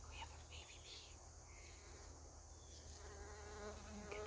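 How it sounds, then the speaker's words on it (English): A bee buzzes among flowers in a backyard garden with tall balsam plants, giving a steady close insect drone that runs throughout over faint outdoor background. "bee. Get to see him working."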